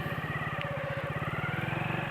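A motorcycle engine pulls uphill on half clutch with a little extra throttle, giving a steady, close, throbbing low note that stays even throughout with no talk.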